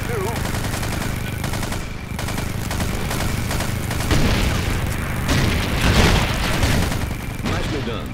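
Frag grenade explosions and gunfire in the video game Verdun, a loud, dense, continuous battle din with booms swelling over rattling shots, with voices faintly mixed in.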